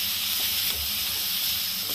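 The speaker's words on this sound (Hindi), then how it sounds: "अब उसी मसाले में हम इसको भी मिला लेते हैं और उसी कढ़ाई में हम डाल देते हैं। इसको फ्राई कर लेते हैं" Onion and bell pepper frying in an Indian kadhai, a steady close sizzle and hiss with a faint low stirring bump, no voices.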